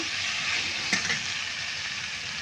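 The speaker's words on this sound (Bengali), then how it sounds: "একটু নেড়ে নেব" Fish and raw tomato curry stirred in a hot pan, a steady close sizzle with one brief scrape of the spoon partway through.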